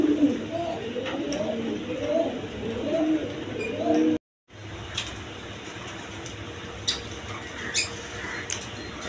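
Domestic pigeons kept for sale coo in repeated low, rolling phrases close by for several seconds, then fall silent after a brief cut, leaving faint background noise and a few light clicks.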